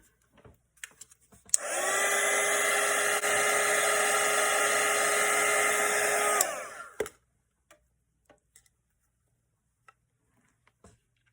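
A hair dryer drying a watercolor painting runs loud and steady for about five seconds and then cuts off, with a few light taps and clicks before and after.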